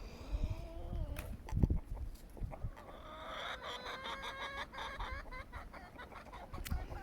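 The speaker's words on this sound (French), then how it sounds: "Les coqs là qui sont en train de se friter." Roosters squabble in a farmyard, giving out a few sharp crows and squawks among steady clucking hens, with birds close and calling intermittently over scuffling and ambient yard noise.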